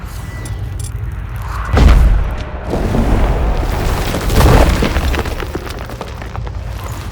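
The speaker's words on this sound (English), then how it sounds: "The stalagmites! Destroy them!" Stalagmites are smashed in The Witcher 3: Wild Hunt, giving two heavy booming impacts over a constant rumbling cave ambience and crackling debris, no talking.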